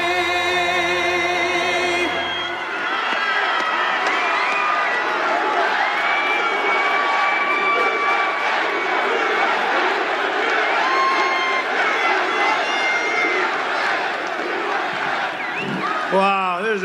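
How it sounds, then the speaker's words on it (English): Dense cheering from a large political rally crowd in Reading, Pennsylvania fills the scene steadily and loudly, with music fading out at the start and voices mixed throughout. "Wow, there's a big crowd."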